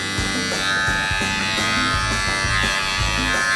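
Electric barber hair clipper buzzing right after blade lubrication, a steady, close, loud hum that runs freely and sounds brighter, with no voices over it.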